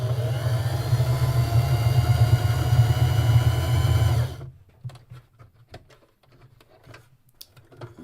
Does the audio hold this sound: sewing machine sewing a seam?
yes